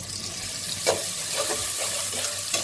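Onions and potatoes sizzle steadily in hot oil in a pan, with occasional scrapes and clinks as they are stirred. The hiss is continuous and close.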